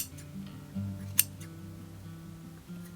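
Fabric scissors trimming yarn or fabric, heard as a couple of faint snips with one sharp click near the middle, over a quiet steady hum and no talking.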